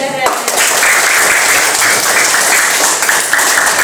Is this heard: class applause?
yes